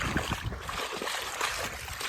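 Water sloshes and splashes continuously up close, churning and gurgling as a hiker moves through wet, muddy swamp ground.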